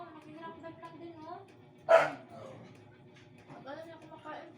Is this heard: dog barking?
yes